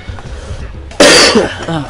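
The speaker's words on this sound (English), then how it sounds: "Of course, I cough on camera." A single loud, harsh cough breaks in abruptly near the microphone after a quiet room tone, then trails off with a breath.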